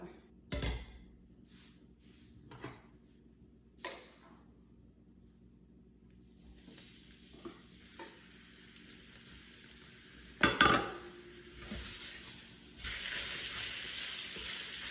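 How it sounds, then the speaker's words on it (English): Beef for Mongolian beef sizzles in hot oil in a pan, a steady fry broken by sharp clatters as the meat is dropped in and stirred. "we're just going to throw it into a pan with some hot oil"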